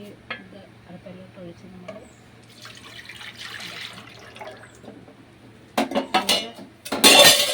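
A ladle stirs kurukku made with karinochi leaves in a pot, starting as faint, soft movement with a voice faintly audible, then turning into loud, close scraping and clattering strokes against the pot near the end.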